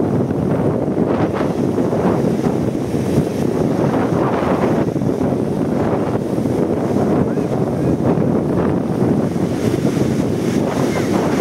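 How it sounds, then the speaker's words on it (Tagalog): Strong wind roars steadily over surging waves, a dense continuous rush of noise at sea with no pause, loud and close throughout. "dito po ang sentro ng hangin, kaya dito po ang alon."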